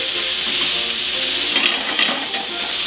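Shrimp and garlic frying on a hot plancha give a steady, close, loud sizzle with a few brief spatters, and no voices are heard.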